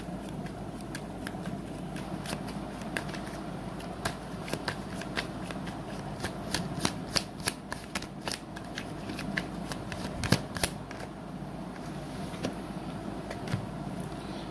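Tarot cards are shuffled again and again in quiet surroundings, a run of crisp riffling snaps and soft flutters repeating in irregular bursts under a faint background hum.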